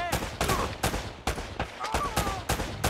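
Gunfire in Uncharted: Drake's Fortune comes as rapid bursts of sharp game shots and automatic fire, repeating several times a second at moderate level throughout.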